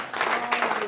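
A church congregation breaking into cheers and applause, a brief burst of clapping and shouting voices from a crowd.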